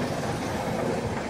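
The Malda Town–SMVT Bengaluru express, an orange train with a locomotive at each end, rushes past near Ongole in a dense, steady roar of wagons and wheels, loud and close throughout.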